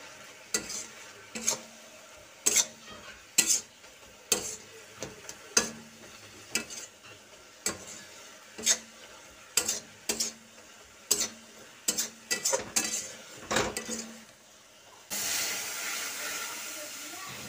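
Sugared grated coconut cooked with milk in a wok over low heat: a spoon strikes and scrapes the pan in a steady rhythm of about one stroke per second, followed by a continuous soft hiss of simmering at the end.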